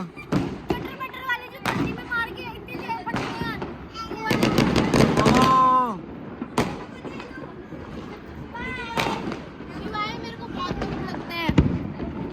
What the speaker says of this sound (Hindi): अभी देखना आप कितने सारे पटाखे लाए हम।